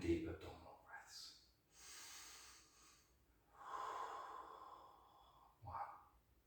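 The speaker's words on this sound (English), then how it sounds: "we're just going to do 10 deep abdominal breaths" Slow deep abdominal breathing during a qigong lesson, long drawn inhales and exhales close to the microphone, alternating with quiet pauses, ending in a sharper breath.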